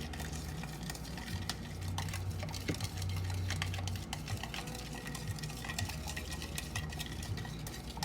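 Continuous stirring of a Dalgona coffee mixture, a spoon scraping and clinking against the container sides in a steady rhythm with a low hum behind it.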